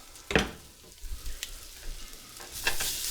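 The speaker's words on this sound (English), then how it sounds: "I'm going to give it a quick stir." Soft sizzling of garlic in a pot with scraping stirs of a utensil, quiet and close, in short bursts.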